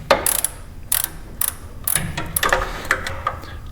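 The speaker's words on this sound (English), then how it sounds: "Elon, please Elon, invent a ratchet that will click whenever you go back" A ratchet on a Mopar big block engine job clicks in short rapid bursts, several quick pawl rattles separated by brief pauses, close and fairly loud.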